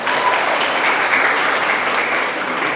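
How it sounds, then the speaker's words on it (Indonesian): Steady, dense applause from an audience at a Muhammadiyah student association (IPM Limbung) branch assembly fills the whole moment at an even, close level, with no voices standing out. "Tepuk tangan dulu untuk beliau."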